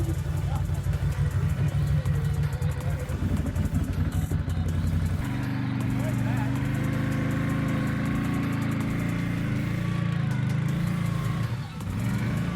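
A quad ATV engine running outdoors at a winter meet in Manitoba: a low, steady idling rumble that shifts to a rougher, deeper tone midway. Voices are heard over it.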